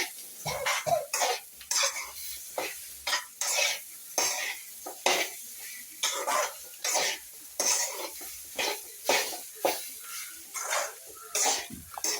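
Soya chunks roasting in a Kerala-style wok, a spatula scraping and clattering against the metal in a steady, busy rhythm of stirring strokes, close and fairly loud, with a faint background hiss.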